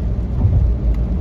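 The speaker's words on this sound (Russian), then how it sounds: "Смотрите, что у нас на улице происходит. Дождик." Outdoor rain falls as a steady, dense hiss with a low rumble underneath, continuous and moderately loud, with no voices.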